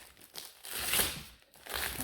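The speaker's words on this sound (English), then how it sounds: "think I'll just unwrap it though." Thick tape and plastic packaging on a car receiver hitch crinkle and tear as they are unwrapped, in close, quiet bursts of rustling and ripping.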